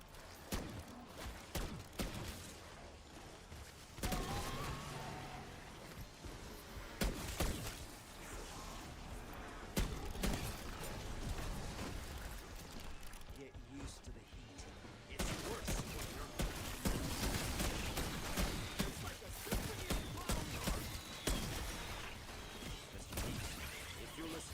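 Gravemark .357 revolver fire in Black Ops 6 Zombies: repeated loud, sharp gunshots in bursts with brief pauses, mixed with impact crashes and game effects, continuing over the whole stretch.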